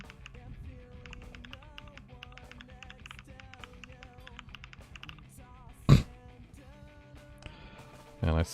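Fast, light keystrokes on a computer keyboard patter continuously up close over faint background music, broken by a sharp thump near the end and a brief louder burst.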